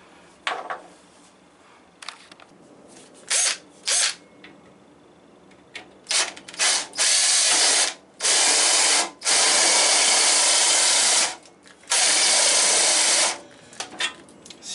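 A drill whirs in repeated bursts, short ones at first then longer sustained runs, with quiet pauses between.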